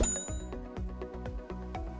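A bright notification bell dings repeatedly, each struck tone ringing out with a metallic shimmer in a quick, regular rhythm over a warm musical bed, loud and clear with no voices.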